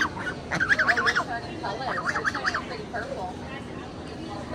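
At a small animal auction, a goose gives repeated wavering honks in two bursts, fairly close, over a murmur of crowd voices and background noise.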